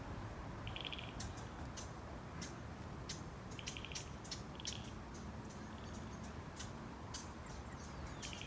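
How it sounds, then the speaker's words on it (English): Chirping birds call repeatedly over a dense, steady bed of croaking frogs and insect-like buzz, an outdoor freshwater wetland chorus with no voices. "Here you'll hear the frogs and the birds and the other little critters."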